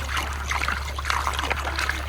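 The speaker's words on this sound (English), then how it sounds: "It's leaking there and down into the water formations." Water leaks from a broken pressurized water line and runs down through gravel, making a steady, close trickling hiss with small splashy fluctuations throughout.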